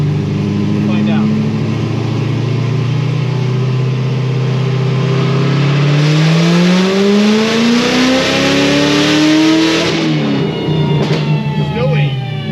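Corvette C7 Z06 engine with a modified air intake, revving loudly during a dyno pull, steadily climbing in pitch for about ten seconds before cutting off, close and powerful.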